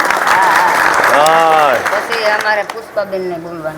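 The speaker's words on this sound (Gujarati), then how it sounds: "આપણે બધે તાળીઓ પાડતા રહે હો" Women clapping together at a devotional kirtan gathering, with a burst of applause that fades as a singing or speaking voice continues over it.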